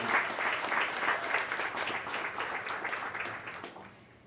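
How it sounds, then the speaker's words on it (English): An audience at a Latino heritage celebration breaks into loud, sustained applause that fills the space and fades toward the end. "Can we give, please, a huge round of applause for all the work that we're doing?"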